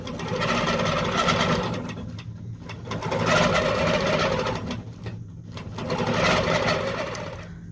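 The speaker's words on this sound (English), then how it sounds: "we'll turn our stitching on and hit check on our screen, and our beautiful design will stitch out." A computerized quilting sewing machine stitches out a double heart corner design, its rapid mechanical whirr rising and falling in three long close bursts with brief pauses between them, and no voices present.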